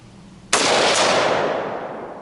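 A single loud rifle shot fired at steel targets on an outdoor range: a sharp crack followed by a long, broad decaying roar.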